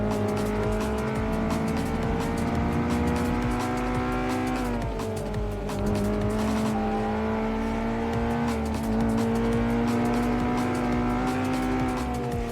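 Car speeding through a GTA open-world game with tires squealing, a sustained engine drone and screeching tire tone running loud and steady throughout.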